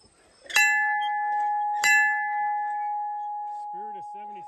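An old Spirit of 76 bell is struck twice, each a loud, bright ring that sustains a long clear tone, followed at the end by brief voices under the fading ring.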